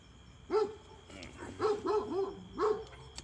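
Dogs bark in a few sharp, close bursts at night, a single bark followed by a quick cluster of three and another single bark.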